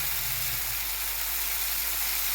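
Steady hiss and sizzle of chutney ingredients sautéing in a hot pan, continuous and close, with no voices.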